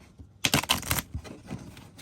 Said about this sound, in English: Please ignore my terrible riffle shuffling, but this is how I shuffle cards.